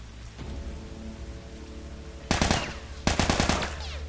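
Rapid bursts of gunfire ring out in the video game The Last of Us, two sharp loud volleys over a steady low in-game background rumble.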